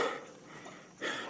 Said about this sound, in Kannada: ಇವು ನಾಯಿ ಕುನಿಗಳು ಬೋಗಳಾಗ್ತಾವ